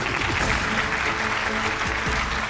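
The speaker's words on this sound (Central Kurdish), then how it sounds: "چەپڵەیەک لێدەن بۆ محەممەد" An audience at a university quiz contest applauds a contestant named Mohammed with steady, dense clapping that holds at full strength for the whole short stretch.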